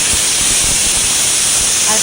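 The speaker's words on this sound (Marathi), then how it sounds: "तर कुकर स्लोमध्ये 2 शिट्ट्या करून घ्यायच्या" A pressure cooker whistles while cooking bitter gourd, giving a loud continuous steam hiss that fills the short span close up.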